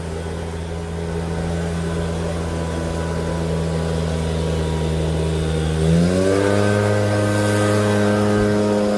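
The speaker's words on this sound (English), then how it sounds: "So we got to blow all the dirt out of the grass." A blower clears loose dirt out of freshly laid sod around a catch basin, a loud steady engine drone that rises in pitch partway through and holds at the higher speed.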